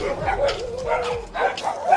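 Dogs bark and yip in short bursts, fairly close and excited, as people flee from them; a voice is partly audible among the barks.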